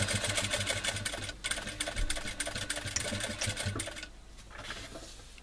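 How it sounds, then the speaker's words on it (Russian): Sewing machine stitching a seam along a zipper on a shoulder bag, a steady, fast mechanical whir close by that slows and softens near the end. "опять кидаю строчку"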